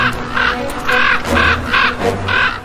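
Ravens caw loudly in a wild landscape where an eagle feeds on carrion, six harsh calls in a steady rhythm, each a short rasping bark close to the listener.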